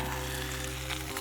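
Food dropped piece by piece into hot oil in a pan at a campsite, sizzling and frying steadily and close by throughout, with no talk over it.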